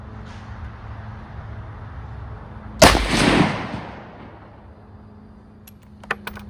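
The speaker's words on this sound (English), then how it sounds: "I'm going to shoot it at the target and we'll see what happens." A single loud rifle shot cracks at close range toward a target on an outdoor range during load development, followed by a rolling echo that fades over a second or two, with faint clicks afterward.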